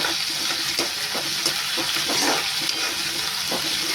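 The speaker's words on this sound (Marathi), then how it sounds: "ही व्यवस्थित थोडी परतून घ्या डाळ." Dal is stirred as it fries in a pan, with a continuous hiss of frying and rhythmic scraping strokes about every half second, close and steady.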